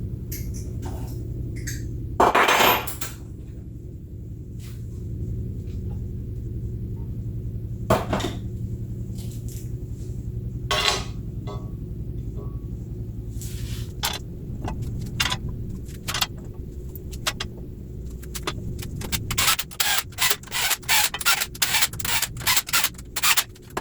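Bolts threaded and set into an engine lift plate on a 5.3L LC9 engine, with scattered metallic clinks, rubs and rattles of tools and hardware, ending in a rapid burst of ratcheting clicks.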